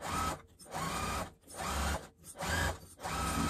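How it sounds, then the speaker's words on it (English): A sewing machine base stitching a seam through several layers of fabric, running in steady bursts with short pauses between them, close and fairly loud. "we'll just go ahead and base stitch this seam down here at about 1/8 of an inch seam allowance"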